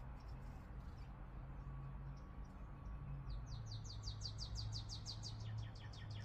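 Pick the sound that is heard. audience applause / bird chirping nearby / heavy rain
bird chirping nearby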